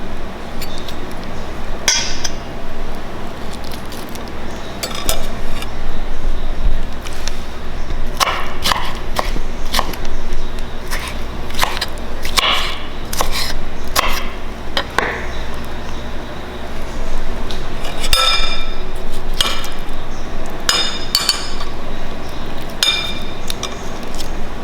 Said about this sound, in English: Just scooping it out with a spoon.